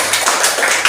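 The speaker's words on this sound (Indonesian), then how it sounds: "Tepuk tangan untuk kita semua." Brief burst of applause from an audience at an Indonesian talk or seminar, dense, loud hand-clapping filling the whole moment.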